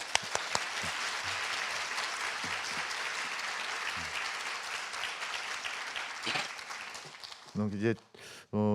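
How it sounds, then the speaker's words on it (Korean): Sustained applause from a crowd for a priest at a church conference on synodality, steady and full, tapering off near the end as a voice begins speaking. "신부님께 큰 박수를 부탁드리겠습니다"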